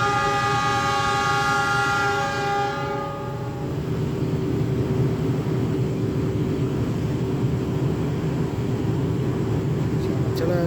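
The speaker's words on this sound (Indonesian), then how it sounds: "jalur 4 dari arah Budan akan segera masuk lokomotif" Diesel locomotive rolling into station track 4 on an Indonesian railway platform, a loud steady low rumble with a strong horn-like harmonic tone in the first few seconds, then continuous engine and wheel noise.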